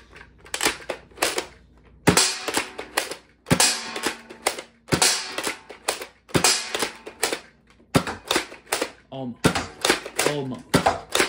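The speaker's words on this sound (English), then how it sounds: "This is actually the first time I've shot any of these new blasters at the target" Nerf N-Series foam blasters fired at a target in rapid bursts of sharp snapping shots, loud and close, with short pauses between volleys and a person talking in between.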